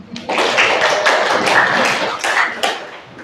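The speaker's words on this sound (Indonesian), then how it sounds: "Tepuk tangan." Audience at an Indonesian school gathering claps together for about three seconds, a dense patter of hands that swells quickly and then tapers off at the end, with no talking over it.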